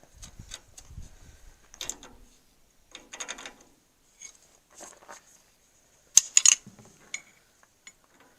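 A tie rod on a Farmall 560 tractor is tightened with a wrench, giving sparse, close clicks and ratcheting bursts. The sounds come in short separated clusters with quiet gaps, and the loudest double clack arrives near the end.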